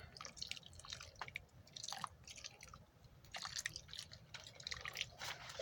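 A tomato seedling in a pot being watered: faint, close dripping and trickling of water soaking into soil, with soft wet patters in uneven bursts.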